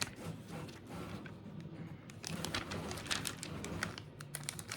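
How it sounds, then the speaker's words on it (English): Cutting a laminating protective sheet to size at an office desk: a close run of crisp, irregular ticks and snips, sparse at first, then denser and louder bursts over a soft steady background. "So I'm just gonna go ahead and cut this down to size."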